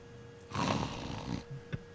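A man snores once in a single long, rough inhaled rasp, fairly faint, followed by a short snort.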